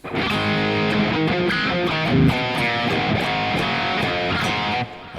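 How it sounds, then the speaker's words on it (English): A heavily distorted electric guitar through a profiled amp plays chunky riffs and sustained chords, loud and upfront, ending abruptly. "But that's I believe what you're hearing is a profiled amp."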